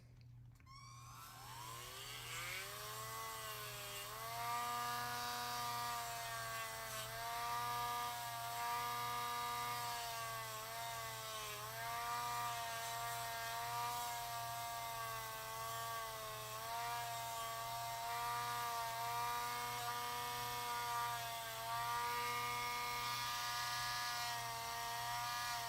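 The elbow peg of a Mezco Green Arrow action figure is shaved down, with a steady, tonal mechanical whine that rises at the start and holds for the rest, faint and continuous.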